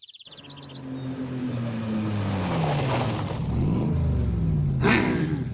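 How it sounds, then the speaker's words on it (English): A rough motorcycle engine in Phoenix Wright Ace Attorney: Spirit of Justice rumbles in and rises in pitch as it revs and approaches, growing louder, with a brief chirp at the start and a sharp burst near the end. "That motorcycle sounds awful."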